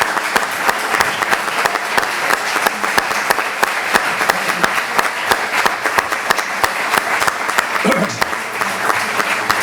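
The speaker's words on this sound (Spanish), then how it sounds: "me voy a permitir solicitar un aplauso para el ponente" Loud, dense audience applause after a talk at a university forum, steady rapid clapping from a large crowd sustained for the full stretch, close and bright, with a few voices faintly underneath.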